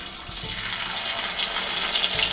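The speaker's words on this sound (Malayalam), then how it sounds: "ഇതിനകത്തേക്ക് നമുക്ക് മാവ് ഒഴിച്ചു കൊടുക്കാം" Unniyappam batter poured into hot coconut oil in an appam pan, a bright hissing crackle that swells as the batter hits the oil and keeps bubbling steadily, close up with no talk.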